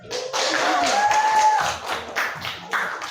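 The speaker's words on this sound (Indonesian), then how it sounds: "Iya, tepuk tangan buat temannya." Children in a classroom clap for a classmate, a dense burst of overlapping applause that thins into scattered taps, with a whistle-like squeal and some voices mixed in.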